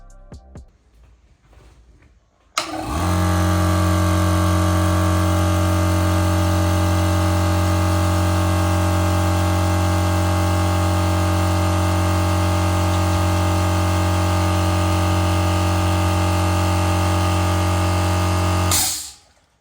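An air compressor with no sound insulation starts abruptly after a quiet lead-in, then runs loud and steady with a strong low motor hum and bright mechanical whine for about sixteen seconds before cutting off.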